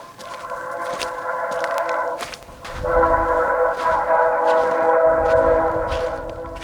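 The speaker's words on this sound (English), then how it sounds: "I hear the all too familiar sound of a train as it passes on the nearby tracks" A train rumbles past on nearby tracks, loud and sustained, with a deep rolling low end and bright metallic tones riding over it.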